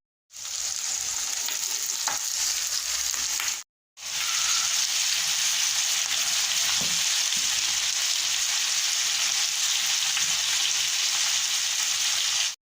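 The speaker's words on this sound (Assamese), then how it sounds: "জলকীয়া আদা আৰু নহৰুখিনিও মই অলপমান ফ্ৰাই কৰি লৈছোঁ" Onion, chilli, ginger and garlic fry in hot oil with a steady, bright, close sizzle that cuts out for a moment near the start, then carries on unbroken with faint stirring and no voices.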